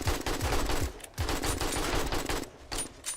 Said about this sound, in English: So glad he made me this AK.